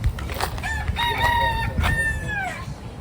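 A rooster on Kauai, Hawaii crows a long, wavering cock-a-doodle-doo that rises and falls over about two seconds, fairly close and clear against a low outdoor rumble.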